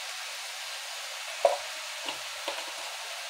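Taro leaves simmer in a pan with cumin, coriander, turmeric and coconut, giving a steady soft sizzle with a few quiet knocks of a spoon as they are stirred.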